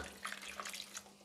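Water poured from a glass into flour for aloo paratha dough, a brief faint splashing trickle heard alone.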